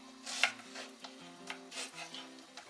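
An onion is cut with a knife in a home kitchen during meal preparation, giving a few soft, irregular chopping strokes at low level beneath quiet background music.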